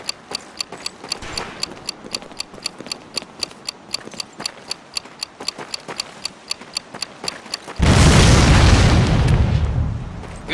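Rhythmic clicking rounds and sharp bangs build into a loud, sustained blast and rumbling roar as old cars are blown up in Medal of Honor: Pacific Assault, with no talk.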